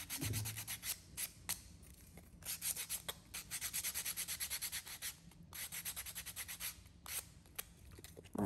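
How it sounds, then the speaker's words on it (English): Rough hand sanding along the edges of an MDF board, with rhythmic back-and-forth scratchy strokes in quick bursts separated by brief pauses, close and fairly quiet, no talking. "I'm just going to give a rough sand on the edges."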